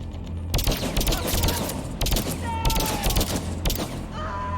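Dense, loud gunfire from a Star Wars-style video game, with rapid bursts of blaster-like shots running almost continuously and a few brief pauses between volleys.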